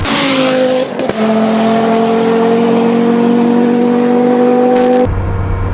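A Porsche 944 rally build fitted with a swapped 07K five-cylinder engine revs up and holds a steady, loud, buzzing high-rpm note for several seconds, then abruptly drops off, heard up close with no talking.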